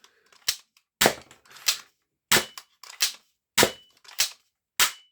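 A non-Nerf foam dart shotgun fires in a run of about eight sharp, snappy shots with short gaps between them, close and crisp against silence.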